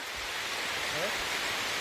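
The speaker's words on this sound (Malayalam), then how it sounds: "നല്ല കിടില മഴ കിട്ടുന്നുണ്ടാ" Heavy rain pours steadily beside a pond, a dense broadband hiss of falling water that stays constant and close for the whole short stretch.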